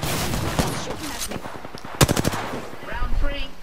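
Rapid automatic gunfire from the video game Apex Legends, loud bursts of shots with sharp cracks near the middle, running continuously under a faint background voice.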